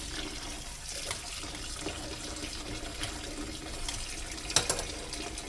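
Tap water runs steadily into a sink while red chile is rinsed, a continuous close splashing flow with one brief louder clink near the end.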